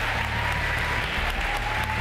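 A television talent show audience applauds after a singer's performance, a dense, steady wash of clapping that fills the whole moment without talk.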